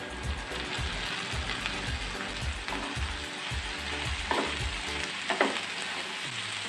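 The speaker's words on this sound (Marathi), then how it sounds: "टोमॅटो पण चांगला परतून घ्यायचा" Tomatoes with ginger-garlic paste and onion sautéing in a pan for pav bhaji, a steady sizzle under repeated scraping stirs of a spoon against the pan, with a couple of sharper clinks near the end.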